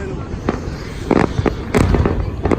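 New Year 2020 fireworks over Landmark 81, loud booming bursts and crackles at irregular intervals, with voices talking and reacting throughout.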